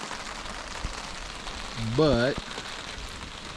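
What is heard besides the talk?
rain falling on a tarp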